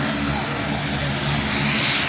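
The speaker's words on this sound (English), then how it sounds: "the plane out there is good to go" A skydiving plane's engine runs steadily at a skydive centre in Byron Bay, a continuous droning hum holding at moderate loudness throughout, with no talk over it.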